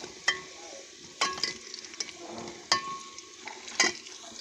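Onions browning in a pan fizz with a low, steady sizzle, broken by four sharp spatula scrapes and knocks against the pan, spaced about a second apart.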